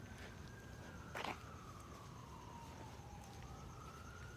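A faint fire station siren wails in the distance, its tone sliding slowly downward over several seconds, with a brief louder knock partway through.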